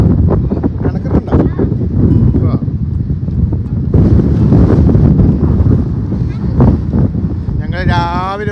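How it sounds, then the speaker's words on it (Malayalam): Strong wind buffets the microphone at St Kilda beach, a steady, loud rumbling roar throughout, with people talking over it. "കാറ്റുണ്ട്."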